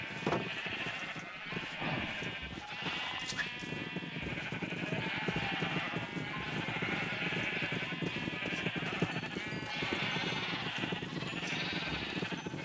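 Sheep bleating in the video game Minecraft, a layered, continuous chorus of game bleats over busy background music and sound effects, steady and moderately loud throughout.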